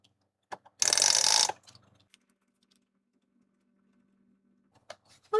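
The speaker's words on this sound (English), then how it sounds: "I'm just going to use my tape runner." A tape runner rolls adhesive onto a card base, giving one loud, dense rasping burst lasting about three quarters of a second, then a low faint hum with a few small clicks.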